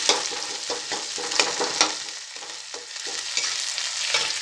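Onions frying in a pan for a home-cooked fenugreek greens dish, a soft steady sizzle with repeated scraping stirs of a spoon, close and with no talk.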